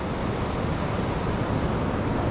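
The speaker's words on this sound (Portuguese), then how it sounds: "O mar tá meio virado." Rough sea surf at Praia das Toninhas beach in Ubatuba, a continuous broad roar of waves with steady wind, heard from the shore without voices.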